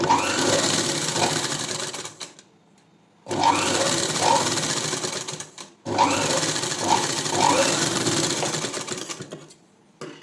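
A sewing machine stitches thread piping beside the piping edge in three close, loud runs of rapid mechanical whirring, each stopping briefly before starting again.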